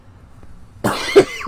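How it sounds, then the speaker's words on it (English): One person coughs a few times in quick succession, close to the mic, after a near-silent lead-in. "Sorry if I'm coughing, I apologize."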